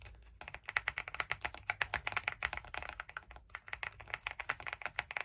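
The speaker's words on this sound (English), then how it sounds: "I'm gonna do a little ASMR on this keyboard. The sound is so freaking pretty." Close, quiet typing on a LEOBOG mechanical keyboard: rapid, steady clicking keystrokes in an even rhythm for several seconds, with no voice.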